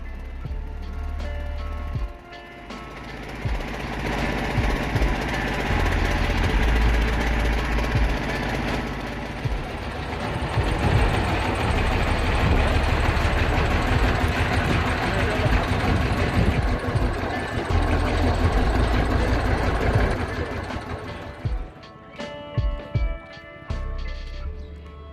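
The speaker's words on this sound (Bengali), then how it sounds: "এখন ট্রলারে করে যাচ্ছি হিরন পয়েন্টের দিকে" A trawler's engine chugs steadily on the way to Hiron Point in the Sundarbans, a loud continuous throbbing drone that eases off near the end, with some talk in the background.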